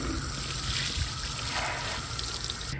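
Water sprayed to wet down motorcycle wheels and tires before washing, a steady close hiss of spray splashing on the surfaces, constant and without talk.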